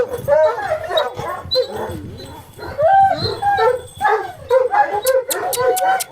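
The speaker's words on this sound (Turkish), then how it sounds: "Şöyle de köpekler var herhalde." Several mountain dogs bark, yip and whine excitedly in overlapping bursts nearby, with drawn-out howling cries rising between the barks.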